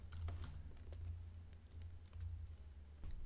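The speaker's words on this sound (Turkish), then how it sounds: "buraya kategori yazacağım" Someone types on a computer keyboard while writing Python code. Irregular, soft key clicks come in quick clusters over a low, steady hum, close but quiet.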